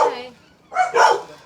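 Household dogs barking as someone arrives home, a few sharp close barks in quick succession, the last two nearly back to back.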